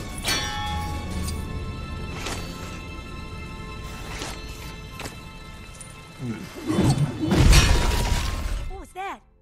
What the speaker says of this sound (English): You think we could smash it up a little?